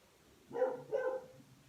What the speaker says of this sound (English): Cindy, my dog's barking.